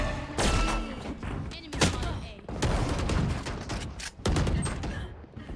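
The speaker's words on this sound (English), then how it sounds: "Oh, cannon." Cannon fire in a video game bursts out as several loud, booming blasts in quick succession, mixed with other gunfire-like impacts and chaotic game noise.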